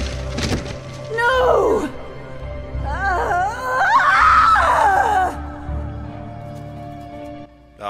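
A female character in the Blackguards 2 video game screams and wails in long, wavering cries that come in several bursts over a low droning background.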